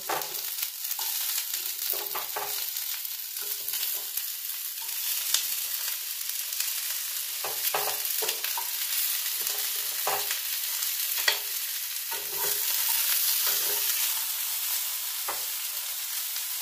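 Cauliflower and carrot pieces fry in a pan, a soft continuous sizzle broken by repeated scraping strokes of a spoon stirring, close and without speech.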